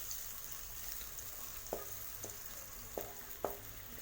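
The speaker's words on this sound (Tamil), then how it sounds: "வெங்காயத்தை நல்லா பொன்னிறமாக வதக்கிக்கங்க" Chopped large onions sautéing in oil in a pan, a soft continuous sizzle with a few quiet spatula scrapes and taps standing out near the end.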